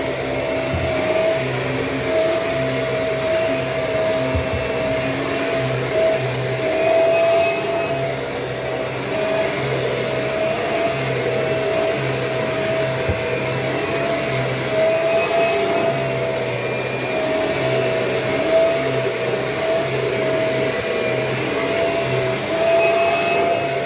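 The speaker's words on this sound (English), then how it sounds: "I can hear the pitch of the G4 rising." A G4 vacuum cleaner motor whines steadily and loudly, a sustained drone that rises slightly in pitch over time.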